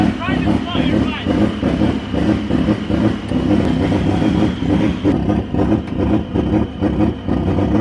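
A turbocharged BMW E46 M3 runs on a dyno with a loud, continuous engine drone that holds steady throughout, while voices sound over it.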